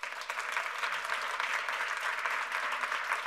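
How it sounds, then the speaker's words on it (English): Sustained applause from an audience at a research talk, dense steady clapping holding at an even level for several seconds with no voices standing out. "So let's give Kevin a round of applause."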